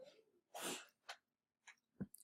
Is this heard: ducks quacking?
no